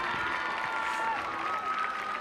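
A football stadium crowd at a high school homecoming game cheers and applauds for the homecoming queen, a steady distant roar of voices and clapping with a public-address voice ringing over it.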